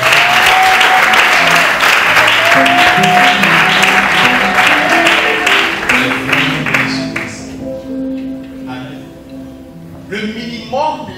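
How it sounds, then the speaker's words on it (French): A congregation at a church service applauds loudly and continuously, dense clapping filling the space with a voice carrying over it, before the applause thins and fades toward the end. "On peut acclamer bien."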